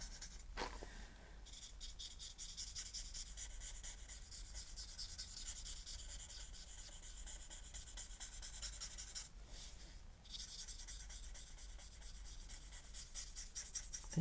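Colored pencil shading on a paper card makes a soft, continuous scratchy rubbing, close and quiet, in repeated strokes with a couple of brief pauses.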